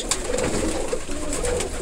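Soft, low pigeon coos repeating steadily near the listener, with a few faint tapping sounds in the background.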